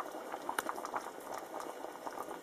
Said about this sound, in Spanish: Ya está hirviendo, le eché la salsita.